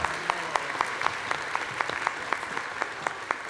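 Audience applause at a national cosplay championship, steady and fairly close, with sharp individual claps and a few whoops or cheers standing out from the crowd.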